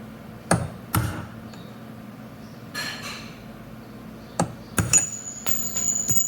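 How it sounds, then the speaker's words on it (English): Several sharp metallic taps from a hammer on a Bridgeport milling machine's axis nuts ring out at irregular intervals, a few closely spaced, with a faint lingering ping after some strikes. "Use my trusty Cook hammer."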